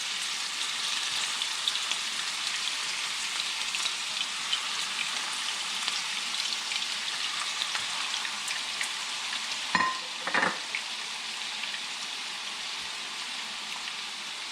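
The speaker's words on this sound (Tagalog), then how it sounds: "i-try natin siyang prito" Steady, dense sizzling of food frying in hot oil, continuous and fairly loud throughout, with a couple of brief louder clatters near the end.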